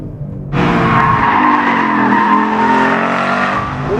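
A Ford Mustang Boss 302 roars through a corner under power, the exhaust note loud and close, a steady sustained engine howl with tire squeal layered over it.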